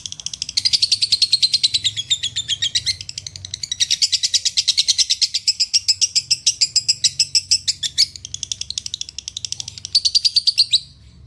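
A lovebird konslet chirps loudly and close up in long rapid rattling bursts of repeated shrill notes, with brief breaks between phrases and no voices.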